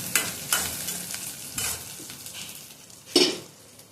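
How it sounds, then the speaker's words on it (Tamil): Okra (vendakkai) stir-fried in a pan, with a constant hiss of frying broken by several sharp scraping sweeps of a spatula, close and fairly loud, with no one speaking. "நல்லா கிண்டி விட்டுக்கலாம். நல்லா வதங்கட்டும்."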